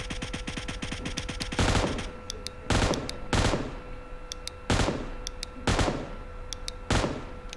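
Gunfire in the video game PUBG aimed at a moving boat: a rapid run of shots, then several heavy single reports spaced about a second apart over a constant game background hum.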